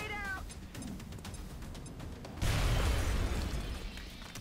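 A grenade blows up in XCOM Long War, a sudden game explosion that swells into a broad, rumbling burst partway through, fairly loud, following a short tonal game sound.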